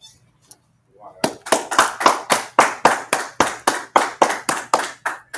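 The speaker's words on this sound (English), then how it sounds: "Let's clap it up." An audience bursts into steady rhythmic applause, a dozen or so sharp, evenly spaced claps ringing out close and loud after a brief quiet moment.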